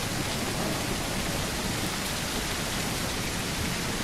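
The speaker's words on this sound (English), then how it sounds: "if it's going to be raining this much, that's pretty good" Steady, dense rainfall in the dinosaur survival game The Isle: an even, unbroken hiss of heavy rain across the whole stretch, with no voices over it.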